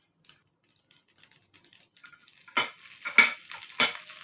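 Urad dal and mustard seeds fry in oil with a light crackling sizzle, broken by a few louder stirring scrapes near the end, close and with no talking.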